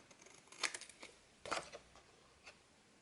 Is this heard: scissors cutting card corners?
yes